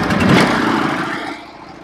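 A Norwood HD36v2 portable sawmill makes a slow pass through a flitch, cutting boards down to one inch, its engine roaring loud and close before easing off toward the end.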